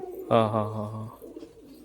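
Pigeons kept in a loft, a short low cooing call rising clearly near, then trailing off into quiet background murmur.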